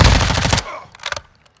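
A squad mate fires a gun in a video game: a rapid, loud burst of automatic shots lasting about half a second, followed by a quieter short volley.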